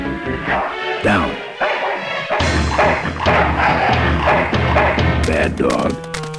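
A dog in the video game Full Throttle barks loudly in repeated sharp bow-wows mixed with yips and whimpers, close up, with a few thumps between the barks.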